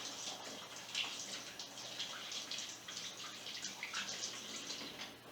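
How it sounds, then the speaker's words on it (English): Running water pours steadily from a tap as hands are washed beneath it, a continuous moderately faint splashing hiss with small drips and splatters and no talking. "I'll wash my hands."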